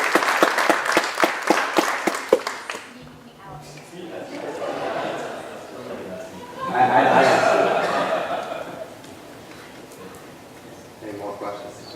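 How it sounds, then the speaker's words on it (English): A round of applause at a community presentation, with a few seconds of brisk, rhythmic clapping from a small crowd, then chuckling, laughter and chatter from the audience. "I think you should give a round of applause"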